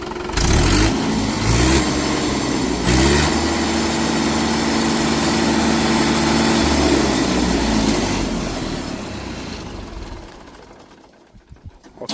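A tractor engine runs at a steady rumbling idle with a few brief rises in revs early on, then fades toward the end.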